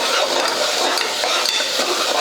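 Green chillies, mint and coriander frying in a pan for mushroom biryani make a loud, close crackling sizzle mixed with brisk stirring scrapes of a spoon, with no talk.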